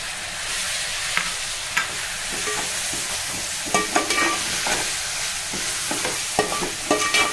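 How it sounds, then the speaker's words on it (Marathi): Chopped tomatoes frying with ginger-garlic paste in a pan for chicken biryani, giving a steady close sizzle broken by scraping stirring strokes. "आता टोमॅटो टाकते।"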